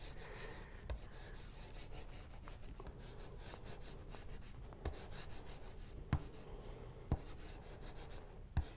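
Pastel stick rubbing steadily across paper while loosely filling in a poppy painting, a soft continuous scratchy friction with a few light taps, close and quiet, no talking.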